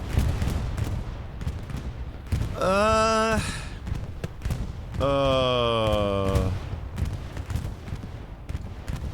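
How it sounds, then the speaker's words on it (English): Bombs from a bombing run burst in Hell Let Loose on Utah Beach, heard as a crackle of distant blasts and impacts, with two loud sustained whistling or siren-like tones cutting over the battle noise. "bombing run goes in"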